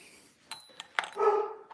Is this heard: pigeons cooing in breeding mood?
no